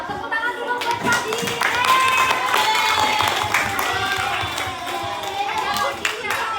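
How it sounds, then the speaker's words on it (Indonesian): Classroom applause for a child named Fadi in an Indonesian Quran and Hadith lesson: a burst of clapping hands from a group, loud and close, fading gradually while a teacher keeps talking. "tepuk tangan dulu buat Fadi"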